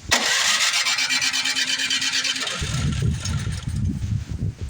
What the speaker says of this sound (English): We're going to crank it over,